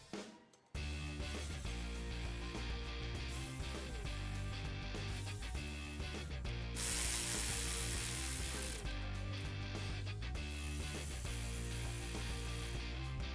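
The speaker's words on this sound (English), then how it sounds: "Snug down the lid bolts." Lid bolts on a Gen III HEMI engine are snugged down with a ratchet or power driver during a flex fuel kit install. A steady close mechanical whirring runs almost continuously, with brief changes in pitch and no speech.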